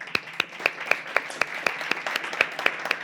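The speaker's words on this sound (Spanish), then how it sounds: "acá la audiencia les da un aplauso" An audience at a regional conference on Internet infrastructure claps; the sharp, regular claps are spaced about a quarter second apart and sound thin, as if a single pair of hands or a small group is clapping steadily for three seconds.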